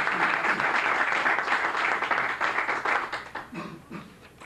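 Moderate audience applause for a newly elected university rector at a university arts and languages academy meeting; the clapping is even at first, then thins and fades toward the end.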